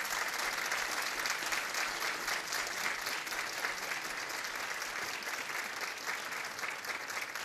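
At a community gathering in Rzeszów, an audience applauds its sponsors with a steady, even roll of clapping from many hands that stays constant throughout, fairly quiet and without speech.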